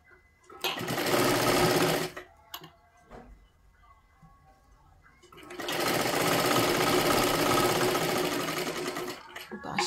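Two long, loud runs of a sewing machine stitching the seam of a size 37 three-piece princess-cut blouse, each lasting a few seconds and separated by a short pause, with no talking over the motor.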